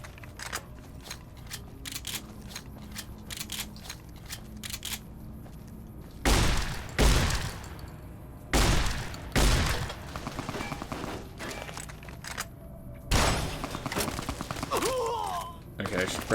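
Gunfire in Fallout: New Vegas: several sharp, loud shots in separate bursts, some doubled, spread over a quieter game background of clicks and rustles.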